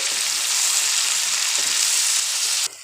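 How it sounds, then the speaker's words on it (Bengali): Ginger-garlic paste and tomato paste frying in a pan for a fish curry, a loud, dense, continuous sizzle that cuts off abruptly near the end. "আদা রসুনের পেস্ট দেওয়ার পরে আমি দিয়ে দেবো টমেটোর পেস্ট, দিয়ে ভালো করে দুটো মশলাকে কষিয়ে নেব"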